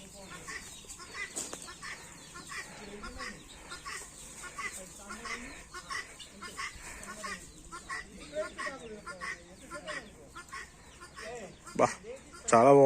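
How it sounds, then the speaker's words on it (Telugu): Chickens and other fowl cluck and call around a farm garden that also keeps turkeys, a steady low-level mix of bird calls with people talking throughout and a louder burst near the end. "కోడ్లు, చీమ కోడ్లు. ఓ, టర్కీ కోడి కూడా ఉందా?"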